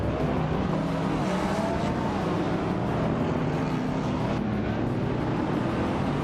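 Engine of a 1998 Aston Martin Vantage V600 in a racing video game, a steady loud roar with shifting pitch and other cars mixed in, continuous throughout.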